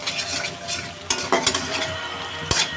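Chopped garlic and green chilies frying in a pan and stirred, a continuous close sizzle punctuated by several sharp spatula scrapes and knocks against the pan.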